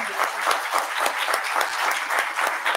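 A lecture audience applauds the director of a political and social sciences faculty with brisk, fairly close clapping, the many individual claps crisp and quickly repeated in a lively, sustained burst of appreciation.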